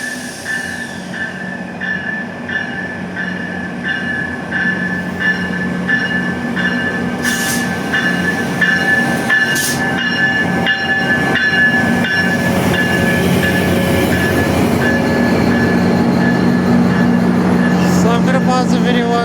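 A GO Transit MP40PH diesel locomotive pulls ten passenger cars into Agincourt GO Station, its engine drone steady and loud while wheel squeal and rail clatter build as the train draws close.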